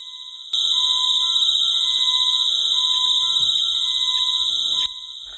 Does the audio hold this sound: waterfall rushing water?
no